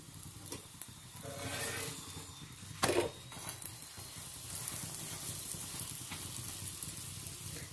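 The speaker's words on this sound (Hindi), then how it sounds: "तो ये अच्छे से सिके इसलिए हम इस पे घी लगा देंगे।" Paneer paratha frying with ghee on a pan, a steady close sizzle and crackle with a few spatula scrapes and taps along the way, no talking.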